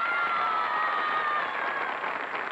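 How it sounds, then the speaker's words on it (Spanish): TV studio audience on a Spanish-language variety show applauds and cheers, a loud, steady wash of clapping and crowd noise sustained throughout, easing slightly toward the end. "¡Aplausos por él!"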